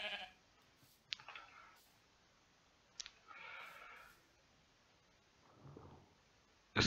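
Minecraft sheep bleating in the game, a few short, faint bleats spread across quiet stretches with occasional sharp clicks.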